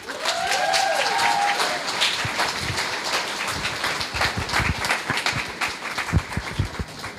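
Audience at a student honor roll ceremony applauds after a poem, a steady patter of many hands with a few cheering voices early, thinning into scattered claps toward the end.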